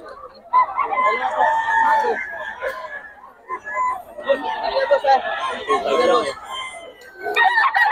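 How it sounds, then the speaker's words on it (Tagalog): A rooster crows repeatedly, loud and close, at a chicken seller's in Bocaue, with other chickens clucking and people chatting in the background throughout. "Boss Perry, magkano manok mo?"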